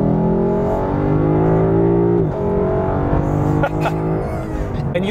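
Deep, steady exhaust rumble from a 2018 Lexus LC500 V8 sports coupe while driving, holding a continuous droning note with slight shifts in pitch, close and fairly loud throughout.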